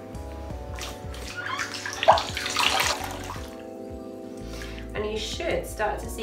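Water in a sink splashes steadily while facial product is rinsed off during a cleansing treatment at a hair and beauty demonstration, with a brief louder splash partway through and a voice talking over it.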